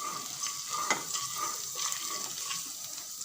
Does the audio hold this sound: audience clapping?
no